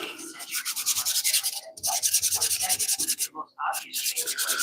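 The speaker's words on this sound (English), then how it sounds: "Promise I won't be sanding all day." Steady rhythmic rasping of sandpaper rubbing back and forth on wood, close and continuous with a couple of brief pauses.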